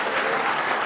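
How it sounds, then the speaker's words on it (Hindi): Church congregation at a worship service clapping loudly together, a dense, steady burst of applause that is brief and close. "जोर से ताली बजा सकते हो विश्वास करते।"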